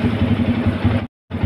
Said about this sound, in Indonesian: Coba digas dikit. Nah, ini digas motornya.